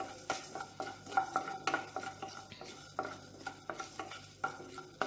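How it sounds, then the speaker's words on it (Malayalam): Coriander seeds are dry-heated in a pan and stirred in quick, repeated scraping strokes, with faint clinks of the spoon against the metal. Nobody speaks. "പാൻ അടുപ്പത്ത് വെച്ച് അതിലേക്ക് നമുക്ക് ഈ 1 ടീസ്പൂൺ മല്ലിയുള്ളത് ഇട്ട് കൊടുക്കാം."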